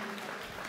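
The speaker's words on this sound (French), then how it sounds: "Applaudissements encore pour lui" Audience applause honoring a men's French boxing champion in the M80 category at a national championship final, a steady dense wash of clapping filling the short moment.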